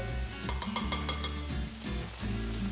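Cashew nuts and almonds sizzle steadily in butter in a pan, with a continuous frying crackle and a few light stirring clinks close up.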